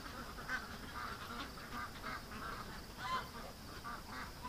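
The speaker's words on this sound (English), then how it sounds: "I'm gonna focus on these ducks" Ducks being raised on a pond among bulrushes, giving a scattering of soft nasal quacks and honks at a distance over faint outdoor background noise.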